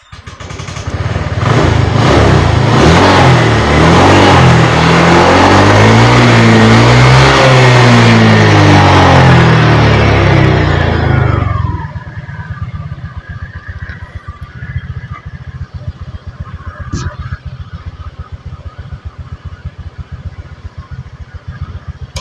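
Honda Vario 125 scooter engine started and revved hard for about ten seconds, then dropping to a steady, close idle chug with a brief click partway through, no voices.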